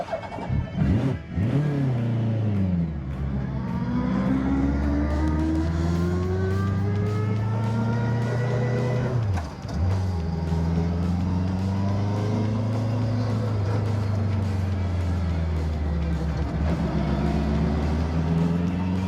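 A Peugeot 106 fitted with a superbike engine, running cold, revs up and down in long sweeping surges, rising pitch then dropping, with a brief dip midway before climbing again; loud, continuous and close.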